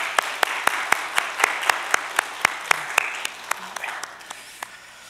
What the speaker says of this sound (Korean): 우리 먼저 하나님께 영광의 박수 한번 올려드렸으면